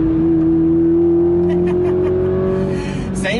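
Inside a Toyota Supra with the 2.0 four-cylinder, a loud steady engine hum rises slowly in pitch under hard acceleration, then the note sweeps upward as the revs climb at the end.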